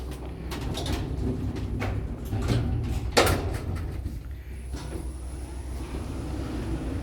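KONE traction lift with original EPL doors operating at Taringa Central, Taringa, Queensland: a mechanical door slide with clunks and a sharp bump midway, over a low hum of the car.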